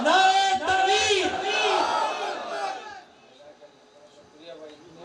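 A crowd at a religious Hamd and Naat gathering roars back a takbir chant in unison, loud and strong for three seconds before fading into quieter background murmur.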